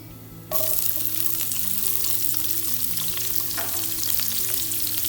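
Onions and cumin seeds frying in a pan of hot oil for spicy okra masala, a loud steady sizzle that starts abruptly and crackles continuously throughout, with no talking.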